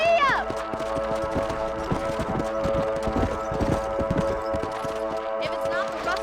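In the Red Dead Redemption video game, a horse gallops with a loud, steady clip-clop of hooves over a constant hum of game sound, with a brief voice at the start.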